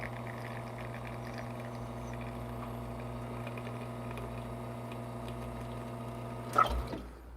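Espresso shot pouring from a machine, liquid trickling steadily over a constant pump hum, with a brief louder splash or gurgle near the end before it tapers off.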